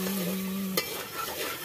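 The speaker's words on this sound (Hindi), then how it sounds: "देखिए तड़का लग चुका है" Tadka tempering in a cooking pot, a steady hissing sizzle of hot spices with a brief sharp clink midway, heard close and alone without voices.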